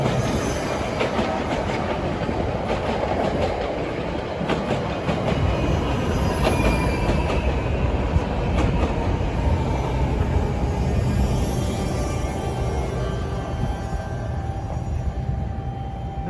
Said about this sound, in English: And that's train 3861, a local to Trenton.